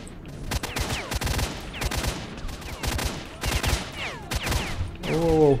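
Bursts of rapid enemy gunfire in the video game Stalker: Shadow of Chernobyl, set in Prypjat, with repeated volleys and sharp cracks close by throughout, and a voice briefly rising near the end.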